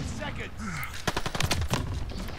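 Gunfire in Call of Duty: Vanguard: rapid bursts of shots crackle in quick succession, mixed with in-game voices and background noise.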